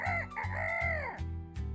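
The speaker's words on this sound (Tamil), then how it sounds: "ஒரு நாள் பண்ணையில் சேவல் அழகாக பாடுவதை நரி கேட்டது" A rooster crows loudly and close by, a long drawn-out call followed by a few clucking notes.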